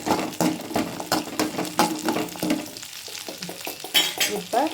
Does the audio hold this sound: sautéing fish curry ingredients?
yes